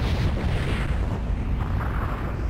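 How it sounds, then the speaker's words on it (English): Ice breaking up in the video game Arc The Lad 2: a dense, continuous crackling rumble with steady loudness for the whole stretch, heavy in the low end and without clear separate breaks. "Ice is just breaking up"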